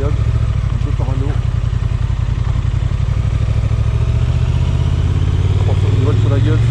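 A Honda Transalp 750 motorcycle idles in neutral with a steady, close, low pulsing throb while someone talks over it.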